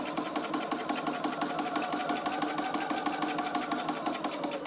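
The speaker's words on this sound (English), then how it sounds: "Okay, so I'm just gonna sew these pieces together here." Sewing machine running steadily while stitching vinyl pieces for a glasses case, a continuous close, even motor whir with rapid needle clatter and no pauses.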